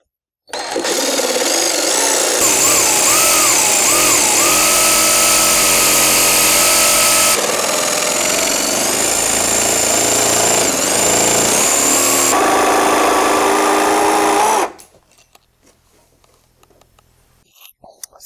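A power tool grinds and cuts through a homemade windshield for a Honda Pioneer 500, a loud continuous whine close by for about fourteen seconds, shifting in pitch as it bites, then stopping abruptly into near silence.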